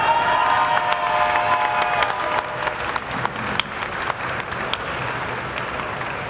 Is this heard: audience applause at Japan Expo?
yes